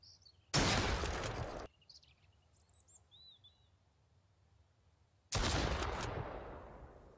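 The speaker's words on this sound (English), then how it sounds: "I don't think I can kill him this far away with a shotgun." Shotgun firing in the survival video game Mist Survival, two loud sharp blasts a few seconds apart, each with a decaying echo, with faint bird chirps in the quiet between.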